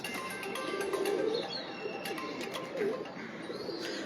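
Domestic pigeons at a loft where birds are kept and flown, cooing softly with low rounded calls around the one- and three-second marks amid a steady bed of chirps and background noise.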